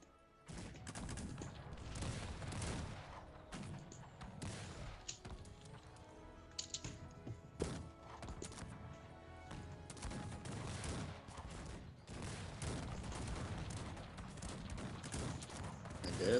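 Musket gunfire in a large battle in the Cossacks 3 real-time strategy game, dense crackling volleys and scattered shots at a distance over a busy battlefield din, fairly faint throughout.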